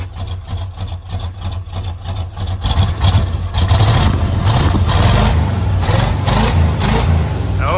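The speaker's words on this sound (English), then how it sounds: "Rev her up a little bit." A 1971 Chevelle Malibu with a blown-out muffler, long abandoned, runs loud and close, its low rumbling engine climbing into steady revs partway through and holding a rough, raspy roar.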